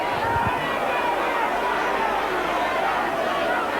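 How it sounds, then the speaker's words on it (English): The South Stand crowd at a Leeds versus Wakefield Trinity rugby league match gives a steady, broad roar of jeering and chatter from a distance throughout. "you'll hear from the jeers of the South Stand crowd what they think of that"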